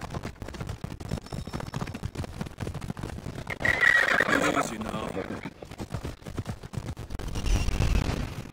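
Horse whinnies and galloping hooves in Assassin's Creed Odyssey, with a loud neigh in the middle over steady game noise and music, and a voice speaking at times.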